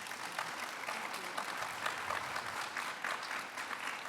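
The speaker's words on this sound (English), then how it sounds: "Let's give them a round of applause," An audience at a family conversation event gives a round of applause, even, sustained clapping from many people that stays level throughout, fairly soft and distant, with no speech.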